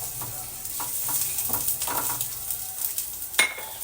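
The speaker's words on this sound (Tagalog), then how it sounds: "Igigisa ko lang tong red onion." Red onion sautés in a pan with a soft sizzle, punctuated by repeated scraping strokes of a utensil and a sharper clink near the end, close and moderately loud, no talking.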